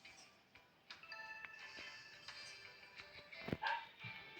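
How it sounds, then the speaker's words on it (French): A pet dog barks indoors in a home, a few sharp, moderately faint barks spread unevenly through the stretch, with a louder cluster near the end over a soft room hum. "Faire que d'aboyer."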